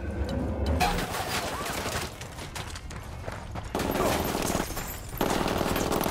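Automatic gunfire from inside a hacienda in Ghost Recon Wildlands, dense rapid bursts of shots that continue throughout, growing louder in the latter half, with voices speaking over the shooting.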